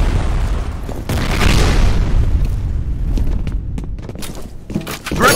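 A grenade blows up in the shooter game F.E.A.R. with a loud, close boom and a rumbling tail. Sharper thumps and clatter from combat and footsteps follow.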